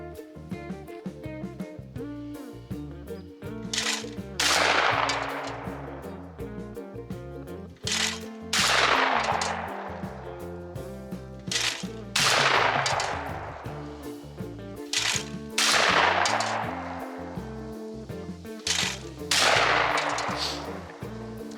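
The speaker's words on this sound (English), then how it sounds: "We'll go ahead, blast a little bit of clay with it here, do a little bit of slow motion" Remington Model 11-48 shotgun fired at clay targets outdoors, with five loud, sharp blasts spaced a few seconds apart, each trailing off in a brief echo over a steady background.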